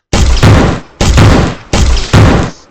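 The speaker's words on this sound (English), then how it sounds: "explosion" Four sharp, loud blasts from a video game grenade launcher, each a sudden heavy boom with a short decaying tail, spaced roughly evenly about half a second apart.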